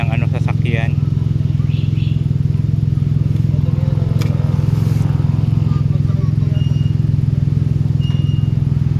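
A motorcycle tricycle engine runs steadily and close by for the whole stretch, a loud, even low drone with faint clatter on top, and some talk mixed in over it.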